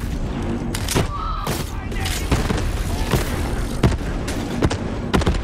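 Grenade blasts and gunfire in Borderlands 3 combat: loud, close, sharp cracks and booming thuds scattered irregularly through a busy battle din, with voices talking over the fighting.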